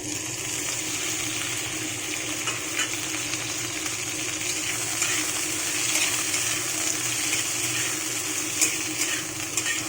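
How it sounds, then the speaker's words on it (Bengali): Steady oily sizzling and crackling of okra frying in a pan, continuous and fairly loud, with occasional stirring scrapes and no voices. "একটু হালকা করে আমি নাড়াচাড়া করে ভেজে নেব।"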